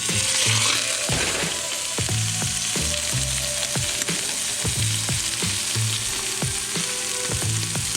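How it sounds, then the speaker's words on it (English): A 60-day dry-aged ribeye steak sizzles loudly in a hot pan with butter, a constant crackling hiss with occasional scraping and clinks of a utensil, no talking. "And listen to this sizzle."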